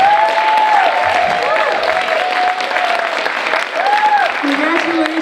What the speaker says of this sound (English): Can I just ask the audience to give again another round of applause?